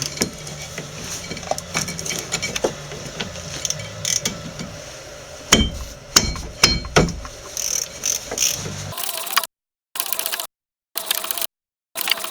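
Ratchet and socket loosening 14mm brake caliper bolts on a 2000 Subaru Impreza, giving bursts of close, quick mechanical clicking with brief knocks, then a short stretch of near silence.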